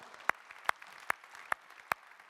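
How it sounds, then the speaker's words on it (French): A few sharp, evenly spaced claps, five in slow rhythm, sound faintly and alone in a quiet room at a cooperative congress round table, more like scattered hands than full applause. "qu'on peut applaudir, je pense"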